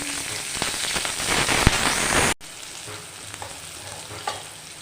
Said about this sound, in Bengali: তেলটা গরম হয়ে গেছে, তার মধ্যে আমি কালো জিরে ফোড়ন দিয়ে দিচ্ছি।